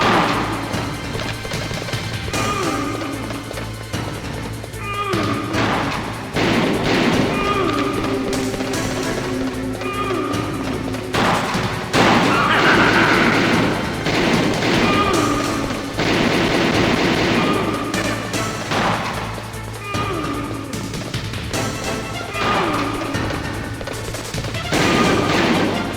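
Revolver gunfire in the stealth game Metal Gear Solid: a long, dense stretch of loud shots, crashes and impacts with repeated sharp cracks over a constant low hum, all continuing without pause.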